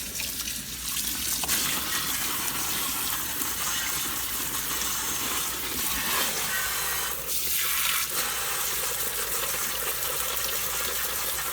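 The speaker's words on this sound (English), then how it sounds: "I'm gonna rinse them in the strainer" Strawberries rinsed in a strainer under a running kitchen tap for a tres leches cake, a steady close hiss of flowing water splashing through the mesh, with slight shifts as the berries are moved.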